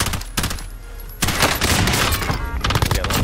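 Rapid automatic gunfire bursts in Call of Duty Warzone, loud and dense, with dull thuds mixed in and fire carrying on almost without a break after a brief lull.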